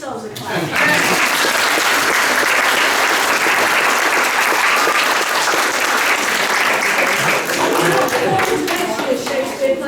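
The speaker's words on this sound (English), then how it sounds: "so give yourselves a clap" A theatre audience at a performance of The Tempest breaks into loud, sustained applause that swells within the first second and fills the whole stretch, dense and close, with a few voices mixed in.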